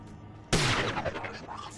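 A sniper rifle shot in the video game Prey: a single loud, sharp blast that decays into a long rumbling echo tail, with faint talk mixed in.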